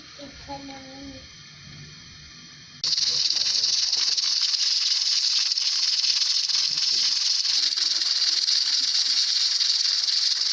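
Steam hisses loudly and steadily from a covered pot of cooking beef trotters, a sudden continuous jet after a few quieter seconds of kitchen noise.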